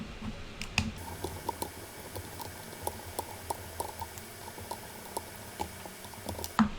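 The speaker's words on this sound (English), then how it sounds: "Let's remove those 4 screws first." Small screws being backed out of an Austrian Audio Hi-X60 headphone's adjustable plastic part, heard as a string of faint, sharp ticks and clicks spaced through a quiet room with no talk.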